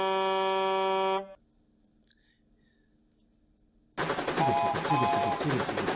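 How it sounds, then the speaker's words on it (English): A truck's horn gives one loud, sustained blast that cuts off abruptly. A short quiet gap follows, then a burst of dense, busy sound. "Honk! Trucker blasted at the mopeds."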